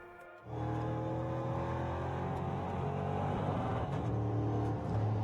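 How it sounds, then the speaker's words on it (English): A NASCAR race car on an onboard lap at the Most circuit in Czechia during a 2019 Elite 1 round. The engine roars loud and close, starting after a brief pause and holding a steady, strong drone with slight pitch shifts throughout. "Now let's go and have a look at an onboard lap with Martin Dubek."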